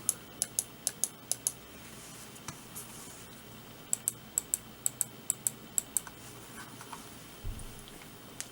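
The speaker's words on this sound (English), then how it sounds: "when I depress the mouse button 1" Sharp, crisp clicks from the main button of a Zowie EC2A gaming mouse, pressed repeatedly in quick bursts of several presses with short pauses between, close and clear against a quiet background.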